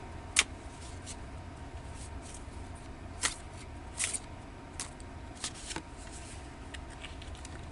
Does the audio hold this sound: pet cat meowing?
no